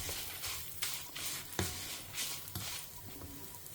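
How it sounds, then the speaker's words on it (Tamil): Rice, lentils and fenugreek fry in hot oil for a South Indian kuzhambu, giving a steady crackling sizzle with soft scraping stirs and occasional pops at close range. "பாருங்க, அரிசி பொரிய ஆரம்பிச்சிருக்கு."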